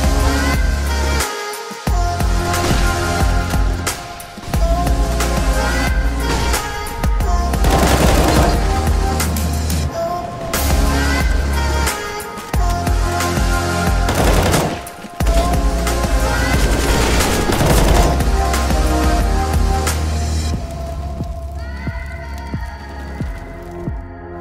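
Rapid bursts of rifle and pistol gunfire in a professional CS:GO match, repeated volleys with short gaps, loud and dense over game ambience and faint casting.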